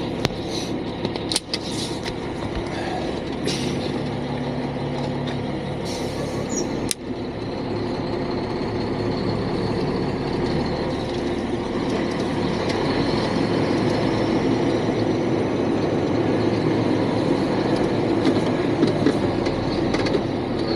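Long truck pulling a loaded trailer, a continuous heavy mechanical rumble and roar as it drives and turns, with a few sharp clunks early on.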